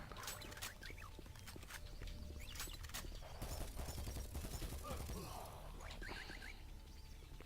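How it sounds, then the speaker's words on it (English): Rapid, dense rattling bursts of minigun fire from armoured robot allies in Doom 3, a busy, steady mechanical clatter carrying through a noisy game mix. "they're fitted with quite a bit of armour and also a minigun"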